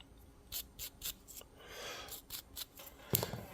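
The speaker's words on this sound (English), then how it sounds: "I would take my bronze brush and just rotate it around and gently scrape that off" A bronze brush scrapes residue off a removed typewriter key from an Olympia SM3/SM4, giving a series of short, close, dry scratchy strokes with a longer rubbing pass midway and a sharper click near the end.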